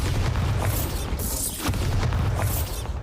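A Bombarda spell in Hogwarts Legacy bursts with heavy, booming blasts, loud and close, with a rushing whoosh between low rumbles and no talk.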